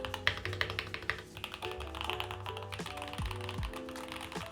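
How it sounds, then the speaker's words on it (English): Keys on an Arbiter Polar 65 Pro gaming keyboard with internal sound dampening clack in rapid, uneven bursts of close, soft typing, with no voices. "I am addicted to just typing on this thing"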